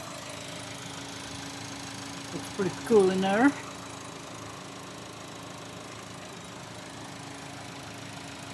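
A BMW F40 M135i with a Direnza induction kit idles steadily after start-up as it warms, a low, even engine hum running throughout, briefly overlaid by a man's short remark midway.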